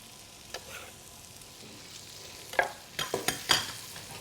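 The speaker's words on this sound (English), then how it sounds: "So my butter's melted now. I'm just going to throw the prawns in just to start colouring." Prawns tossed into melted butter in a pan sizzle quietly, with a handful of sharp clattering stirs and bumps near the end, close by and without talking.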